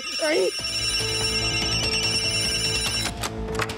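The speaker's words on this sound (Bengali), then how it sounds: "কোন ফোনটা যে বাজছে?" A voice speaks briefly, then a phone rings with a steady, layered electronic ringtone that fills the rest of the clip at close range.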